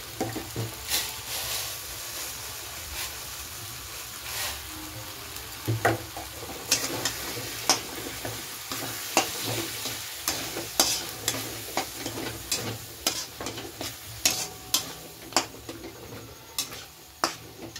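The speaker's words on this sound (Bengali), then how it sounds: "জলপাইটাকে একটু ভেজে নিয়ে এবার চিনি দিয়ে দিচ্ছি।" Olives fry with sugar in a pan for a chutney, with a steady sizzle and many irregular clicks and taps of a spoon stirring against the pan, close and without talk.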